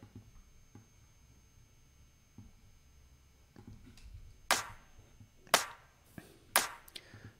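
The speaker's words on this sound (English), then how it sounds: "Let's now apply it to the clap track." A drum-machine clap track processed with a DS-10 drum shaper plays as a few sharp, snappy claps spaced about a second apart, following quieter soft ticks, heard alone without talk.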